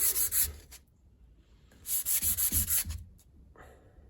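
Rough scratching strokes of abrasive across a knife scale surface, two close bursts of quick back-and-forth rubbing separated by a quiet gap, with no talk.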